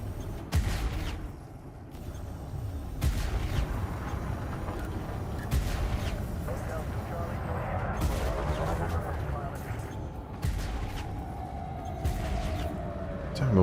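Cannon fire in the space combat game Elite Dangerous: repeated heavy booming shots and metallic impacts over a constant engine rumble, with a rising whine near the end, loud and close, while someone talks over the action.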